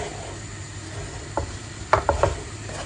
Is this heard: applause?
no